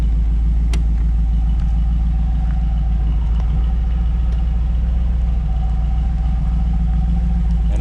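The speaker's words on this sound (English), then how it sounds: "you'll hear it idle up and down slightly as the compressor kicks on and off" A 1989 Camaro IROC-Z engine idles with a steady low rumble, its pitch rising and falling slightly now and then as the air-conditioning compressor cycles on and off, heard close up without talk.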